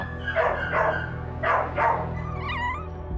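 Dogs in an animal shelter bark in several loud, close bursts, two pairs of sharp barks followed by a higher whining yelp near the end.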